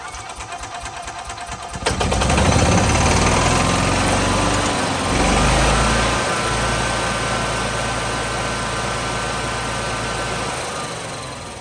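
A Kawasaki engine on an EZGO golf cart runs steadily close by, a buzzy, even drone that rises in pitch for a moment partway through and then settles back, with no talk over it.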